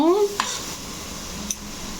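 Mutton dropped into a hot frying pan, a brief high clatter at the start giving way to a steady close sizzle with a light stir scrape midway.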